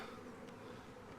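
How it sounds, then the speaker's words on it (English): A swarm of honey bees drones steadily around a chimney during a hive removal as smoke drives them upward, a dense continuous buzz that is faint and even throughout, with no voices. "smoke the remaining bees up the chimney"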